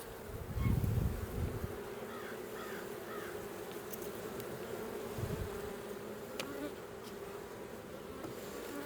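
Honey bees buzzing around an opened hive during a late-season check before winter, a steady close hum of many insects with a few louder bumps, no talking.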